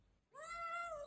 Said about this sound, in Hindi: ये देखो म्याऊ, ये यार, और एक बिल्ली